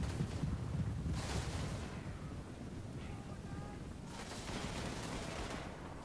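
Dense, distant-sounding volleys of musket and gun fire from units in battle in the video game Total War Warhammer, a continuous rumbling crackle with louder swells, heard without any talking.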